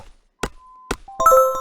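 Two short wooden chopping thunks spaced about half a second apart in the MySims video game, followed by a bright chiming pickup jingle.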